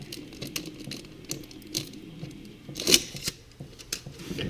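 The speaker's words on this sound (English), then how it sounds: "I'm going to go ahead and just remove the protective plastic on there." Protective plastic wrap comes off a new oil filter for a 2016 Jeep Cherokee 2.4L, heard as close, quiet crinkles and sharp plastic snaps in scattered bursts.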